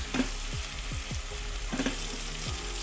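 Tomatoes frying in a pan for a spring onion curry, a constant low sizzle with several quick scraping strokes at an even pace, close and fairly quiet, with no voices.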